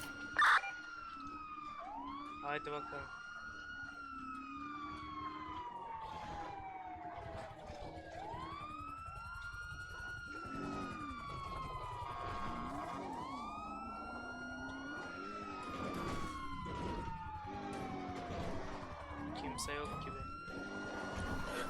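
A police siren in GTA 5 roleplay wails, rising and falling in repeated long sweeps, loud and continuous throughout, with a low engine rumble beneath.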